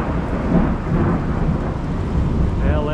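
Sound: thunderstorm with thunder and rain

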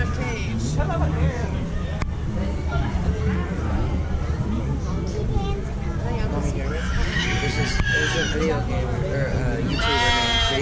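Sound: donkey at a state fair

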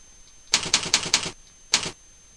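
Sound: typing a new folder name on a keyboard

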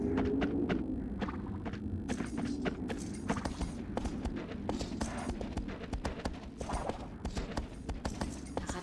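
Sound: horse hooves in a video game

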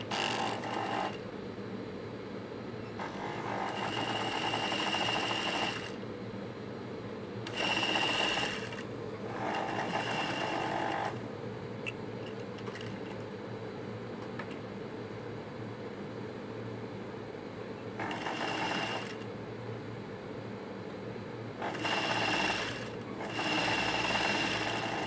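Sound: sewing machine stitching a blouse neck piece

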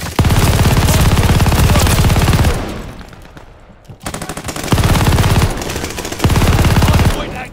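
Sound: machine gun fire at the hardpoint in the video game Call of Duty Vanguard

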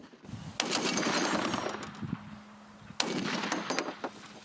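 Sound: Browning machine gun firing

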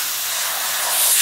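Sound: spray painting a Sturmgeschütz III model

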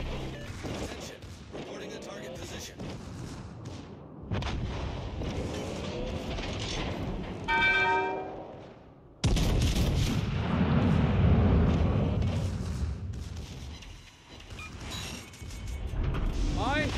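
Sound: warship guns firing, from video game World of Warships Legends

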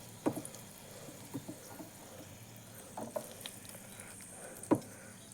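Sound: shallots and tomatoes being sautéed in a pan

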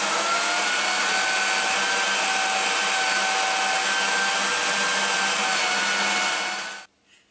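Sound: power drill drilling into a gear

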